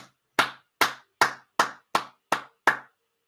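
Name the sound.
applause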